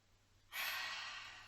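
A single audible breath, drawn in softly and up close during a yoga low forward lunge, starting suddenly and tapering off slowly.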